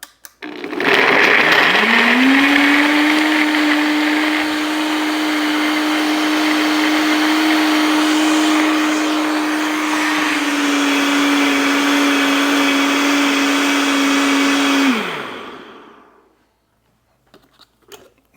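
A loud blender, The Beast, whirs steadily for about fifteen seconds at a constant high pitch, then winds down and stops, followed by a few faint clicks.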